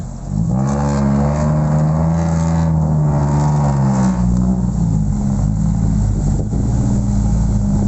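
A loud dirt-racing car engine roars continuously, its pitch rising and falling as it revs, with a deep rumbling growl echoing off a wall and no talking.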